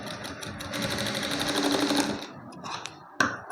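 A sewing machine stitching fabric for a blouse tassel runs in a steady, close whirring burst for about two seconds, then stops, followed by a few faint clicks and a sharp knock.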